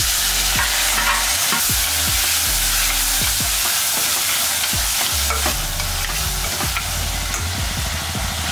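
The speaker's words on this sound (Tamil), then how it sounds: "இதல ரெண்டு தக்காளியை நான் கட் பண்ணி எடுத்து வச்சிருக்கேன் இதையும் போட்டுக்கலாம்" Chopped tomatoes stirred into a frying curry base of sprouted chickpea kuzhambu, loud constant sizzling with repeated scrapes and clacks of a spoon against the pan, heard alone.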